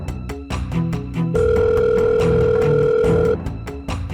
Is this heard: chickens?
no